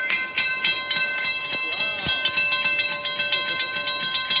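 An MBTA commuter train rolls steadily past the Sargent Road railroad crossing in Boxborough, with continuous rumbling wheels, rhythmic clacking and the crossing bell's steady ringing tones throughout, close and loud.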